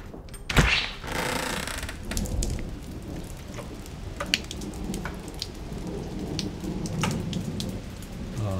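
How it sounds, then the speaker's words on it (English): Heavy rain pours steadily outdoors during a thunderstorm, with a loud crack of thunder near the start and a rumble rolling on beneath the constant downpour. "It's thundering and lightning like crazy outside."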